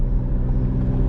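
A Chevrolet C8 Corvette Z06 engine pulls hard at the top end, a steady, loud, dense roar with a deep low rumble and no break, heard close.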